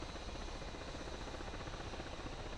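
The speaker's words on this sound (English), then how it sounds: "Watch the RPM and jet pipe temperature indicators and check that the engine accelerates normally" A Mirage F1 jet engine spools up during a cold start in a flight simulator game, a steady, dense roar with a broad hiss, constant and unbroken, fairly faint, with no talk over it.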